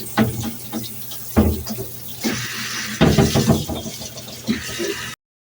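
Running water splashing over an old wooden bluebird box being rinsed, uneven gushes and spatters with occasional knocks of the wood, close by, stopping abruptly at the end.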